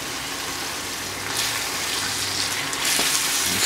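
Pizza sauce being stirred in a pan, a steady wet sizzling and swishing texture that grows slightly louder midway, with soft scraping accents near the end and no voices.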